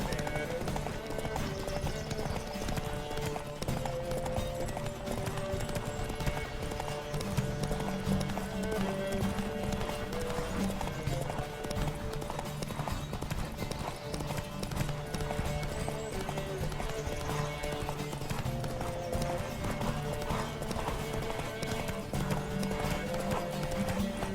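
Rapid, continuous clip-clop of galloping horses in a race in The Witcher 3: Wild Hunt, under a constant game soundtrack, with some voices and noise mixed in.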